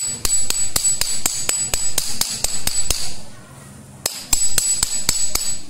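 Hammer tapping lightly and repeatedly on the housing of a clogged, water-blocked CNC wood router spindle, sharp metallic knocks in quick steady succession with a brief pause midway, close and loud.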